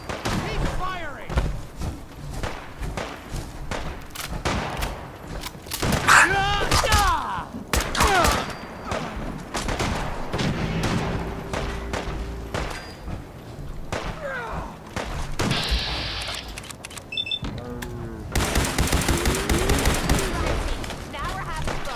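Sustained gunfire in the video game Fallout 4: rapid volleys of shots and thuds packed densely over a long stretch, loud and close, mixed with game sounds and voices talking through the shooting.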